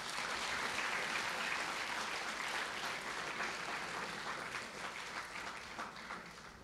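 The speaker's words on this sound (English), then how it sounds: "May I ask all of you to join me in thanking them with a big round of applause once again." Sustained audience applause at an inauguration ceremony for dialysis machines, dense clapping from a crowd that holds steady and slowly tapers toward the close.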